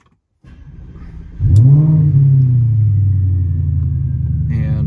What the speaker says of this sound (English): I'm going to start up the car here.